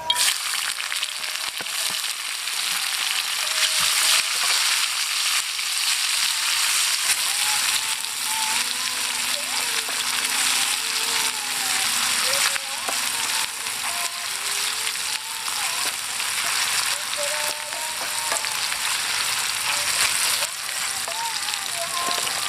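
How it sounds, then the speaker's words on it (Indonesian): Chili, green tomato, shallots and garlic fry in hot oil with a steady, dense sizzle and crackle that lasts throughout. "di sini ada cabai, tomat hijau, kemudian bawang merah, bawang putih, langsung kita goreng"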